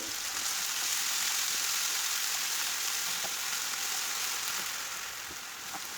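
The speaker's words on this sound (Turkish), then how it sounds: "Şimdi tavama kıymalarımı ilave ettim. Güzelce kıymamı kavuracağım." Minced meat sizzles steadily in a frying pan, a continuous close crackle of browning mince with no pauses or voices.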